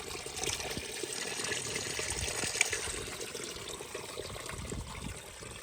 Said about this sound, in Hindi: तो ये जो पानी है ये अंदर से निकला हुआ है, ये देखो।